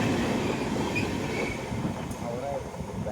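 Passenger train on the Howrah to SMVT Bengaluru route at Chittoor station, a loud steady rumble of wheels and carriages with faint squeals and clatter throughout, close by.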